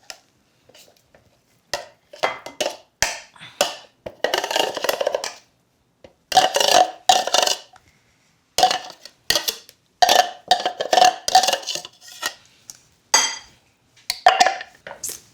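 Chopped fish kebab mixture is scraped from a food processor into a bowl, giving a series of close, sharp clinks, knocks and scraping bursts separated by short silences.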